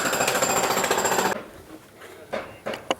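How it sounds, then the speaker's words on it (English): Rapid mechanical hammering for over a second, then silence broken by a few separate sharp knocks and taps. "I'm going to hit that with a hammer."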